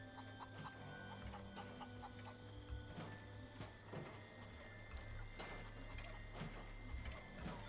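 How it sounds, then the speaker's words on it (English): Mutated chickens in the video game Fallout 76 cluck faintly in short, scattered bursts against a continuous mechanical whirring background. "Are those mutated chickens?"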